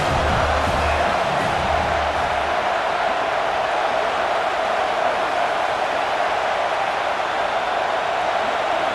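Home stadium crowd in EA Sports College Football 26 roars as a defense faces third down, a steady, loud, even wall of cheering noise that holds without break throughout.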